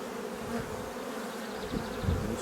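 Honeybees drone steadily at an opened hive from a colony that is swarming, a close, continuous buzz with a few individual bees passing near, and no voices.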